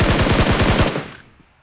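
A Scar-L assault rifle fires in PUBG Mobile, a rapid burst of about a dozen loud, close shots in even rhythm, ending abruptly with a short fading echo.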